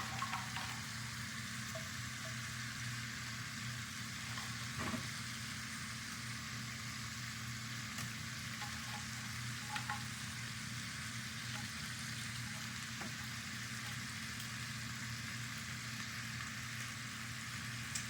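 Shrimp frying in a skillet for shrimp scampi, a constant soft sizzle with faint clicks as pieces settle, heard alone at low level.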